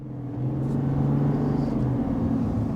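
A 3.0 Duramax diesel ZR2 pickup truck accelerates gently, its engine a steady low rumble that builds slightly and holds without hard revving.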